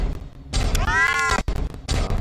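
A cartoonish cat meows loudly and with a rising harmonic wail in the horror video game CASE: Animatronics 2, one long yowl between thuds and game noise.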